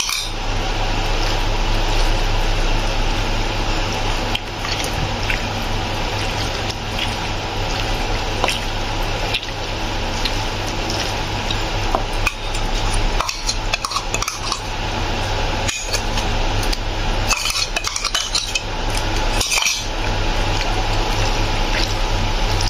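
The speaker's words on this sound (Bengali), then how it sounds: "এবার আমরা মাছটার মধ্যে মশলাটা দিয়ে ম্যারিনেট করব।" Hands knead a coriander, ginger and garlic spice paste into raw fish pieces for fish fingers, giving steady wet squelching with light clinks of a bowl throughout, no talking.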